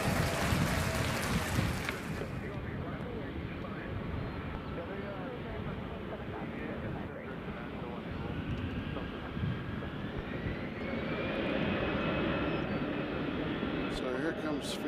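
Airliner passing at Nashville International Airport, a loud continuous engine roar and rushing wash that stays steady throughout, with a faint rising whine in the later part and talk over it.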